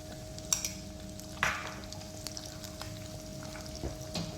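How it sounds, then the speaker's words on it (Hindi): A spoon stirring whisked yogurt into fried onions in a pan over a low flame, with soft scraping clinks against the metal and a faint steady sizzle underneath, close and quiet without speech. "और साथ ही हमें चम्मच के साथ इसको अच्छी तरह से मिक्स कर लेना है।"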